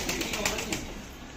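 Fancy Mukhi and Shirazi pigeons coo softly in a steady, close murmur, with a few brief wing flutters breaking through at intervals; no one speaks.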